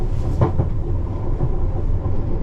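A London Underground Piccadilly line train at Hounslow Central rolls into the sidings with a steady, heavy rumble and a few soft wheel clicks early on. It is heard up close from the driver's cab, with no one talking.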